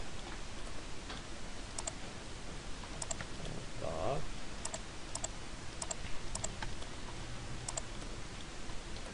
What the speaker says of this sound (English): And I'm right-clicking to repeat the loft command